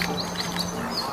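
Short squeaky quacks from a toy duck, a few brief high calls in quick succession, fairly close and clear over a light background hum.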